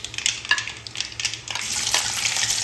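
Green chillies frying in hot oil after mustard seeds pop, for a Kerala fish curry, crackling sizzle with spluttering pops building to a steady hiss, no talk.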